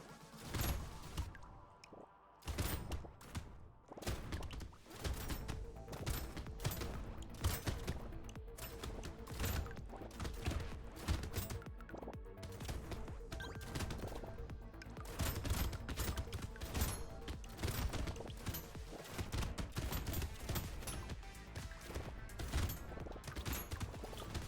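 Shotgun fire in the video game Brotato comes as dense, rapid bursts of game gunshots with crashing hits, loud and nearly continuous throughout.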